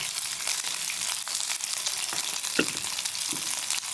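Chicken wings frying in hot oil, a dense, continuous close sizzle with crackling pops and a few stirring knocks, no talk over it.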